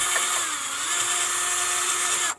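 Power tool with a brush attachment scrubbing rust off a car wheel hub, a high steady whirring grind, close and continuous, stopping abruptly at the end.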